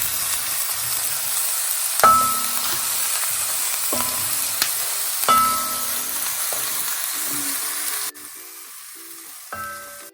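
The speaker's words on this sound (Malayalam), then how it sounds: "സവാളയും കറിവേപ്പിലും ഇട്ട് കൊടുത്തിട്ട് ഇതൊക്കെ വഴറ്റി എടുക്കാം." Onions and curry leaves sautéing in hot oil for a salmon head curry, a constant crackling sizzle punctuated by several sharp metallic clinks of a spoon against the pan.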